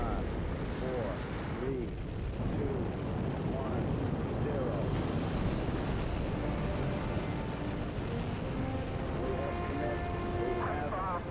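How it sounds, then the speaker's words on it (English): Saturn V first-stage engines igniting at the Apollo 8 launch, a loud, continuous broadband roar building and rumbling throughout, with a voice counting down over it. "We have ignition sequence start. The engines are on."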